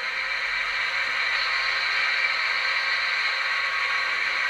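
Cooling fans on a model locomotive's sound decoder give a steady, even broadband whoosh with faint tonal hum, constant throughout, with no voices.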